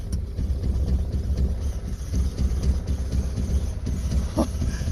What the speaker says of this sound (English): I think it's running on 2 cylinders.